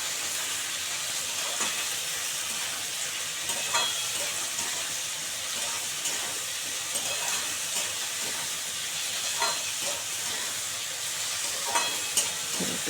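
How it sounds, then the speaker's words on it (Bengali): Long beans frying in a pan with egg, a steady loud hissing sizzle running throughout with occasional spatula scrapes and stirs, close up and without any voice. "এর মধ্যে দিয়ে দেবো দিয়ে এটাও সুন্দর করে এক মিনিটের মতো সুন্দর করে ভেজে নেবো"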